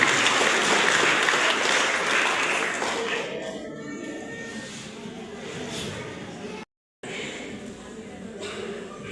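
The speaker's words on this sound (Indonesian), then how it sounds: "kita tepuk tangan untuk mereka" Congregation at a GIDI church youth gathering applauding in a broad, steady wash of clapping, fading somewhat midway, with faint voices and shuffling mixed in and a brief dropout near the end.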